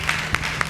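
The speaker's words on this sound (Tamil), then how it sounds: "நல்ல கைத்தட்டுங்க" A church congregation at a Sunday service claps hands in a brief burst, with three sharper claps standing out over a room murmur.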